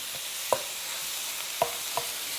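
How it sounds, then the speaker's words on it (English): Mince frying with onions in a pan is broken up with a utensil: a constant bright sizzle runs throughout, punctuated by three quick scraping knocks against the pan, and no one speaks. "We add the mince in. You need to break up the meat in the pan"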